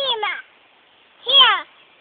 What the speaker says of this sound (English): what's wrong with that kitty cat?